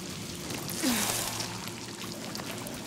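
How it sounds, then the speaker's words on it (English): A small waterfall in the video game Hellblade II pours and patters steadily at low level, a continuous rain-like splash with a brief swell in the first second, no talk. "Because I have to go through that water, that little waterfall again."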